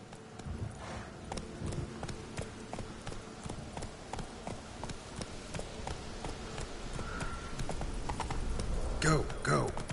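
Horse hooves gallop in a steady clip-clop rhythm through The Witcher 3: Wild Hunt, moderately loud with game ambience, speech over the top and a brief whinny-like burst near the end.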